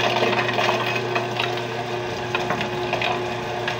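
Food processor running on bread dough ingredients for a garlic parsley braided loaf: a steady close motor whir with churning, gritty mixing noise throughout.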